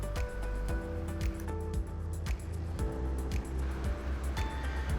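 Small airplane engine droning steadily inside the cabin during takeoff from Shannon Airport in Fredericksburg, Virginia, a constant mid-level hum with faint rhythmic pulses and no talk.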